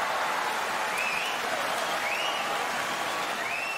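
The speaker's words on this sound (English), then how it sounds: "Mitakeumi's fans are cheering for him on day one" Sumo crowd applauding and cheering for a Sekiwake wrestler on day one of a grand sumo tournament, a steady dense wash of clapping and crowd roar with an announcer's voice faintly over it.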